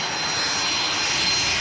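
A business jet arriving at Manchester Airport roars loudly and steadily, its engine noise close and unbroken across the short stretch, with no one talking.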